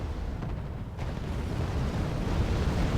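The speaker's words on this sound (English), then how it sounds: "let's see if they generate explosion effects this time around" Soviet artillery fire in the video game Wargame AirLand Battle sets off a continuous low rumble of overlapping explosions, a heavy sustained barrage with one sharper burst near the start, with no voices.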